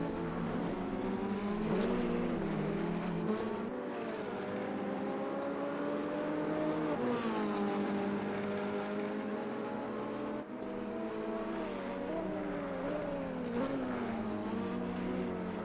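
Ferrari Challenge race cars at Imola roar past in a continuous loud stream, engines rising and falling in pitch as several cars accelerate, shift and pass close by, with no voices over the racket.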